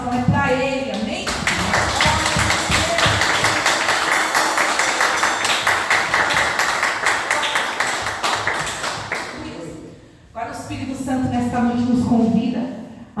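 A church congregation claps in rhythm during worship, steady and fairly close, under loud singing and music that pauses briefly near the end.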